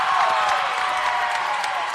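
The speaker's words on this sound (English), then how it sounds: "The crowd down here cheering for the Bolts." Spectators at a basketball grand final cheer and clap together in a dense, steady roar of crowd noise that fills the whole short stretch, with an announcer talking over it.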